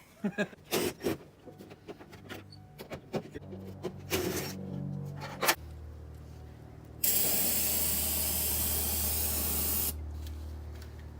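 Spray foam hissing out of a can in a steady, loud burst of a few seconds, following clattering handling noises and brief background chatter.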